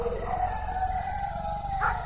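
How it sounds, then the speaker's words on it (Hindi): A faint, drawn-out wavering howl from dogs far away, steady and mournful against a low background rumble. "दूर कुत्तों के रोने की आवाज"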